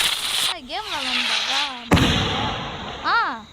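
A Diwali firecracker goes off once with a single sharp, loud bang midway through, surrounded by excited voices talking and calling out before and after it.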